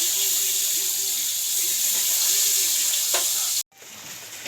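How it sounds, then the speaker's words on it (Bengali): Eggs fry in a pan with a steady, close hiss of sizzling oil that runs evenly, then cuts off abruptly near the end before a quieter sizzle resumes. "এই যে এখন ডিম ভাজা হচ্ছে"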